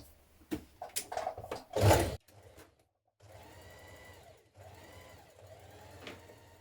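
A sewing machine stay-stitches around a jacket neckline, two short runs of quiet, steady motor hum following a few sharp handling clatters and knocks nearby.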